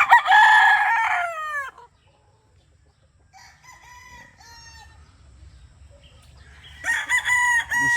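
A Boston Millionaire gamefowl rooster crows loudly and close, two full crows with a quieter clucking call between them, against faint background noise.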